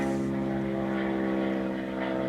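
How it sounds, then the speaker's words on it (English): A propeller airplane drones steadily overhead, a loud continuous buzzing hum with throbbing engine tones and no pauses. "Probably didn't hear me over the airplane."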